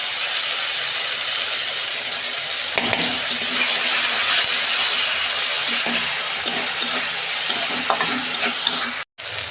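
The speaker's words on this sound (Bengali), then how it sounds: "আদা রসুন কাঁচা লঙ্কা দু চামচ মতো দিলাম" Ginger, garlic and green chilli sizzle loudly in hot oil in a pan, a close, dense and continuous fry broken by stirring scrapes and a short cut near the end.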